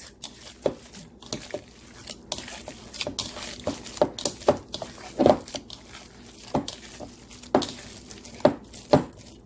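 Hands squishing and kneading meatball mixture in a bowl, a steady run of wet slaps and squelches at an uneven rhythm, close and fairly loud, with no talking.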